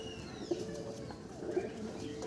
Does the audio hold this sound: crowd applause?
no